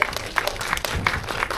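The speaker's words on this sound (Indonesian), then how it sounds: "Boleh kita berikan tepuk tangan?" Audience clapping at a film talk event, a moderate crowd applauding steadily with scattered louder claps for under two seconds, fairly close.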